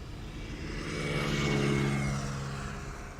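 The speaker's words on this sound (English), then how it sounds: "This is KLM flight 705. A 787-10 Dreamliner to Rio de Janeiro." A KLM Boeing 787-10 Dreamliner airliner on flight 705 to Rio de Janeiro, passing at Amsterdam Schiphol with a steady engine roar that swells toward the middle and eases off, heard alone without talk.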